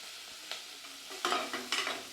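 Onion and tomato are sautéed for mushroom biryani, a soft quiet sizzle punctuated by a few distinct spatula scrapes and stirs, the last ones louder and closer, with no one speaking.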